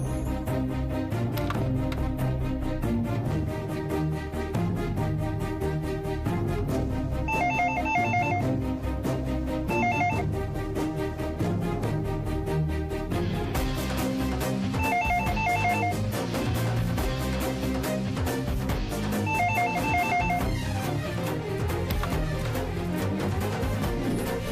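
A telephone rings steadily in a repeating bell pattern, with electronic ringing bursts recurring over a dense musical background.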